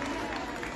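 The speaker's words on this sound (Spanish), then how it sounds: "Bien fuerte los aplausos para ellos" Outdoor crowd applause at a kindergarten day parade on an avenue, a brief dense patter of clapping heard steadily throughout.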